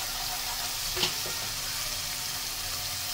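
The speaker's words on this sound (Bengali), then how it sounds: "তেলটা একটু বেশি গরম হয়ে গেছে, এর জন্য বেশি ছিটকেছে।" Cumin paste hits overheated oil in a pan and gives a dense steady sizzle with a brief sharp spatter burst, close up and alone with no talking.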